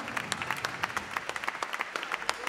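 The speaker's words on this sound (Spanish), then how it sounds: "Fortísimo aplauso para toda esta gente." Audience applause at a big band concert: a steady patter of many hands clapping, fairly close and even, with crisp individual claps standing out throughout.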